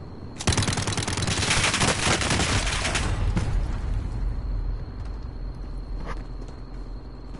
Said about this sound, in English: I was shooting with the Uzi.